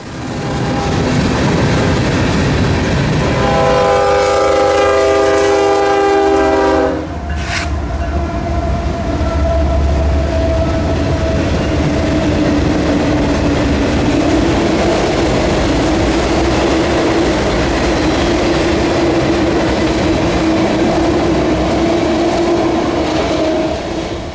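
A freight train's horn blares loudly in a harmonic chord for a few seconds, then the heavy rumble and screech of the long train rolling past continues, at Folkston, Georgia.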